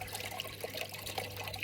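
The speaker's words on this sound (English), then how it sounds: "just sitting here listening to the water" Water runs steadily through a gold panning sluice outdoors, a soft, even trickling flow with faint splashes, quiet and unbroken with no voices.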